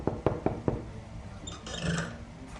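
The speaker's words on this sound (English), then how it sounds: "She lightly tapped her uninjured hoof against the office door." A pony's hoof knocking lightly on an office door in a town hall, four quick close knocks in an even rhythm followed by faint shuffling.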